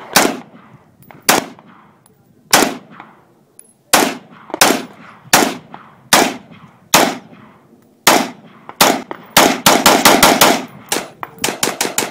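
A Bushmaster Carbon 15 rifle fires a series of loud, sharp shots, first spaced about a second apart, then a rapid string of quick shots near the end, each with a ringing decay.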